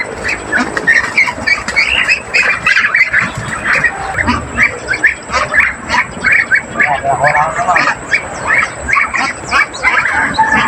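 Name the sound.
ducks that escaped, squawking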